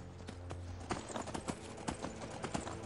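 Horse hooves clip-clop in Skyrim: Elder Scrolls V on PS3, a quick uneven run of soft thuds at close range over a low ambient hum, with no talking over it.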